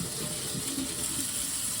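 Water running from a tap in a house, a steady hissing flow at moderate level that continues without a break.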